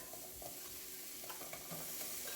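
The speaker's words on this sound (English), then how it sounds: "we have a little bit of avocado oil that I'm just using in the pan just to go ahead and get my onions in here" Onions sautéing in avocado oil in a pan, a soft continuous sizzle with faint stirring scrapes, fairly quiet and heard alone.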